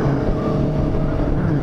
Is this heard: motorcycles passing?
yes